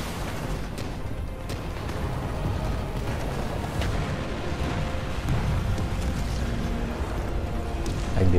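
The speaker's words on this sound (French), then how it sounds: "lors des explosions." Explosions in the action video game Stellar Blade on PS5, a dense continuous roar of rumbling blasts and booms with scattered sharp bursts, loud and sustained without talk.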